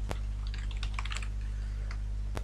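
Keys clack on a computer keyboard while text is entered into a Microsoft PowerPoint text box, a quick run of close, light taps over a steady low hum, bracketed by two sharper clicks, with no one speaking.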